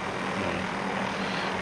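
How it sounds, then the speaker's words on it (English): Helicopter engine and rotor noise in a video game, a steady, broadband roar from a chopper flying overhead, loud and continuous with no talk. "There's another chopper in the air at all"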